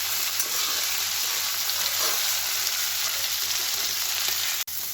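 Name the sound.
vegetables frying on full flame in a pan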